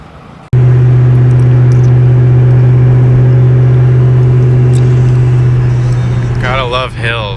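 A 2004 Mustang Cobra engine with catalytic converters fitted starts up loud and holds a steady low droning rumble while driving on the road, with a voice speaking briefly near the end.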